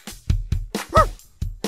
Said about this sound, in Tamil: ஸ்பிளாஸ் ஒரு சராசரி நாய்.